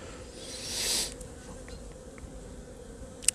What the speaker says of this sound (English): these are all just bees eating and sitting on this frame of honey